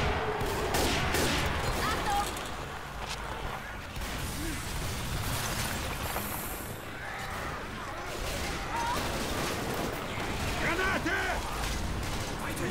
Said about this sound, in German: Ey, ich hab schon wieder auf den Verbündeten geschossen.